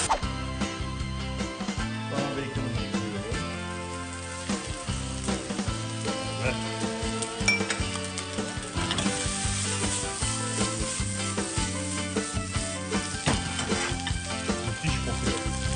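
Shallots sizzle steadily in olive oil in a pan over medium heat, a dense continuous crackle with occasional stirring clatter, close and even throughout.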